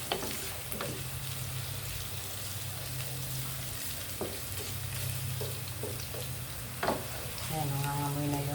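Squid adobo with vinegar cooking in a pan, a steady sizzle and frying hiss with intermittent stirring clinks and scrapes, fairly close and continuous throughout without speech.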